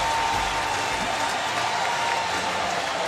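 A raucous crowd at a college football stadium, Bowling Green Falcons against the Tennessee Volunteers, roars and applauds in a dense continuous wash, with a commentator speaking faintly beneath.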